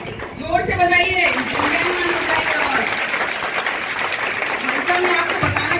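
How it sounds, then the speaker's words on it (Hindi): Applause from an audience of schoolgirls and guests at a school honouring ceremony, dense steady clapping running throughout, with some voices and a brief higher-pitched voice early mixed in. "जोरदार तालियां"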